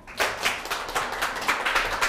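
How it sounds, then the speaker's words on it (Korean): An audience claps for a lecture show guest, a few seconds of quick, fairly light applause with distinct individual claps, close and fairly quiet, no talk over it. "큰 박수 주세요."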